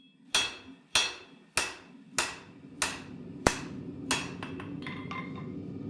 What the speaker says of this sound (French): Ne pas toucher le centre de la lame m'oblige à forger un tranchant plus fin pour atteindre la largeur désirée.